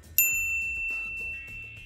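A single bright notification bell ding strikes once and rings out briefly, clear and close, followed by a fainter tonal chime.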